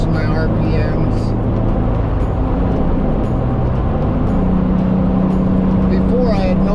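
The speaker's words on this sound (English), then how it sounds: "as of right now, I am pulling onto the interstate, watching my RPMs" Truck with 4.88 gears and 35 inch tires accelerating onto an interstate: loud, steady engine drone and road rumble heard from inside the cab, with a rising engine tone toward the end and a voice talking over it.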